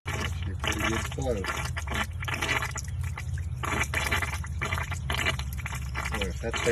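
Harvested rainwater gushes steadily from the end of a long garden hose into a garden. The flow is continuous and splashy, with someone talking over it.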